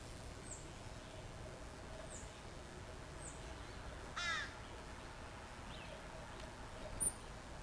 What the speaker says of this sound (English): And that was a crow. That sound was a crow.